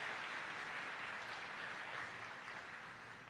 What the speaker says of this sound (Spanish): Den un aplauso a estos actores tremendos.